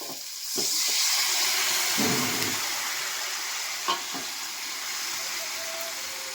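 Spice paste in ghee sizzles steadily in a pan for a bottle gourd and fish curry, with a few stirring clatters and someone talking over it.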